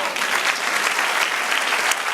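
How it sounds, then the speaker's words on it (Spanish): Loud, close applause fills a church service as the congregation claps together in a thick, sustained burst with no pause. "Dale un aplauso, Señor."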